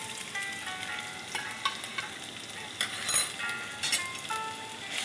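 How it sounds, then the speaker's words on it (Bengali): Garlic paste and chopped ginger frying in a pan for a Kolkata restaurant-style chilli chicken, a soft continuous sizzle with scattered louder crackles and occasional stirring scrapes, close and fairly quiet. "একটু ভাজা ভাজা করে নিচ্ছি"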